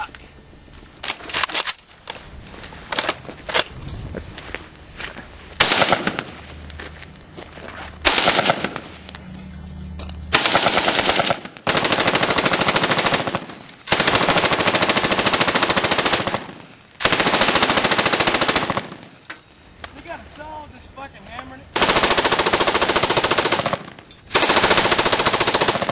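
Bursts of machine gun fire at a test fire bunker, long sustained automatic strings alternating with short volleys and brief pauses, loud and close.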